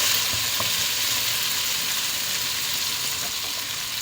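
Tomatoes fry in hot oil for a Sri Lankan mutton curry, giving a dense, even sizzle close by with a few faint scrapes of stirring, and no one speaking.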